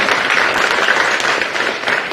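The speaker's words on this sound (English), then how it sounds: "Y'all clap for that." Steady applause from an audience, a dense wash of many hands clapping at once, loud and sustained with no talking over it.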